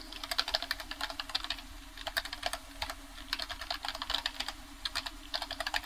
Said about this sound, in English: I'll type that up here.